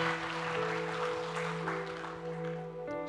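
A church congregation applauds and cheers during a Sunday online worship service, a steady wash of clapping and crowd noise under sustained organ or keyboard chords.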